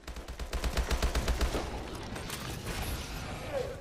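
Rapid automatic gunfire in the video game Call of Duty: Advanced Warfare, Exo Zombies on the Carrier map, a fast string of sharp shots at the start followed by continuing combat noise.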